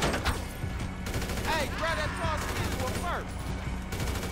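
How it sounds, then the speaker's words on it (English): Grenade launcher fire and explosions in the video game GTA V, with bursts of gunfire under a constant low rumble and whooshing, sweeping effects, mixed with game sound. "No, that's a grenade launcher, Trevor."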